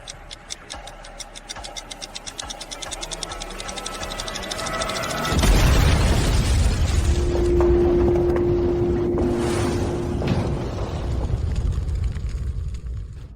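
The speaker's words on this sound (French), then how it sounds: "Elle a vraiment explosé" An explosion erupts after several seconds of light rhythmic ticking, swelling into a loud, broad roaring blast that stays as a heavy rumble and slowly fades, with no speech.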